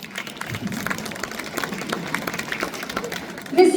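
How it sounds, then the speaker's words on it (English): Steady applause from an audience at a children's art painting competition, greeting one of the judges as they are introduced. Dense, even clapping continues throughout, with a louder burst near the end. "A round of applause, please."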